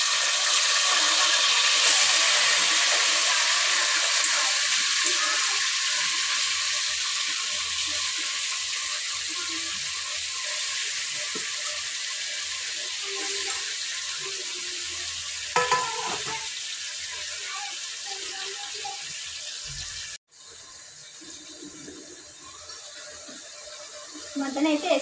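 Mutton pieces land in hot oil in a home kitchen pan and fry with a loud, steady sizzle that slowly fades, broken by stirring scrapes and a brief cutoff, while someone talks over it.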